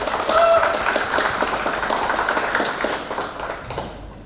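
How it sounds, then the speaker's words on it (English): Audience applause at a university student council public debate during a general election, a dense steady patter of many hands clapping throughout, loud at first and tapering slightly toward the end. "give applause to all the candidates for the first motion"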